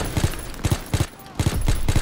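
Rapid gunfire and explosive bursts from Call of Duty WW2 multiplayer, with a grenade going off: sharp repeated bangs in quick clusters, loud and close, with a brief lull in the middle.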